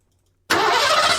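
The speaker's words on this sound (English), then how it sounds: "That's just a car starting" A car engine cranks and fires after half a second of silence, then settles into a loud, steady running roar close by.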